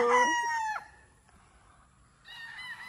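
A rooster crows loudly and close on a farm, one long call that breaks off, then a short quiet gap before another crow starts.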